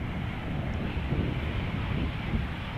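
An Embraer 190 arriving at Schiphol Airport makes a steady broadband jet roar with a low rumble that holds constant throughout and is not broken by any other sound.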